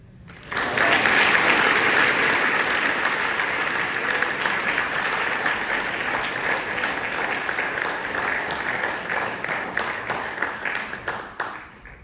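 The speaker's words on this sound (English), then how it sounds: "let's give another round of applause" An audience at a senior speech event breaks into loud, sustained applause, full clapping that swells quickly, holds steady for several seconds, then tapers off near the end.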